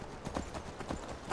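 Horses gallop across open terrain in the video game Skyrim Special Edition, their hooves beating out a quick, steady clip-clop rhythm that stays close and prominent throughout.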